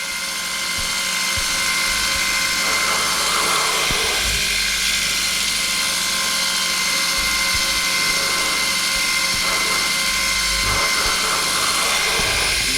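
A surface grinder grinding with a wheel, a loud, continuous mechanical whir and grinding hum with a steady rasping texture that swells slightly at times as the wheel works across the piece.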